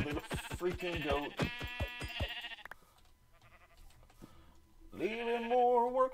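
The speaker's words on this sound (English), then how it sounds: "It's a sheep." A black sheep in the video game Minecraft gives a series of loud, wavering bleats in quick succession, then pauses before bleating again; a voice can be heard in the background.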